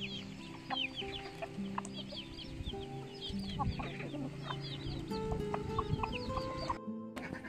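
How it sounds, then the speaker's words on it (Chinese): Barred Luhua hens and half-grown chicks cluck and cheep while pecking corn on a farm, a busy mix of soft clucks and high chirps close by, with a brief silent gap near the end. "这七只小鸡仔长大了，没有抱鸡婆带了。"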